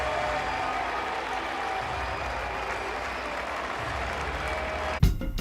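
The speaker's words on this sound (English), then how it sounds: "Skubal leaves and gets a huge round of applause" A big ballpark crowd at a Chicago White Sox at Detroit Tigers baseball game applauds as pitcher Tarek Skubal leaves, a dense, sustained wash of clapping, ending in a sudden loud thump and rustle.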